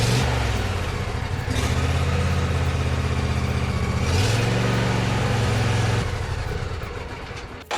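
A John Deere D140 lawn tractor engine runs steadily at a throaty, even idle, its pitch stepping up briefly near the middle before settling. It is loud and close, with no talking.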